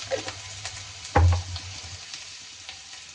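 Curry leaves and ginger-garlic paste hit hot oil in a pan with browned onions, a steady sizzle jumping into one loud crackling burst before settling back to a lower fry.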